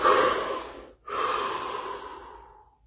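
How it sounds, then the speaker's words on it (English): A deep breath taken during a guided relaxation session: a long audible inhale, a brief pause, then a slow exhale fading over a couple of seconds, close and alone without talk. "Take a deep breath."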